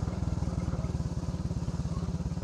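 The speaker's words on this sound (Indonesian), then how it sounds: "motor saya bisa melaluinya dengan cukup baik" A motorcycle ridden along a rough, muddy adventure trail, its engine pulsing in a steady, fast rhythmic thrum, loud and close throughout with no talk over it.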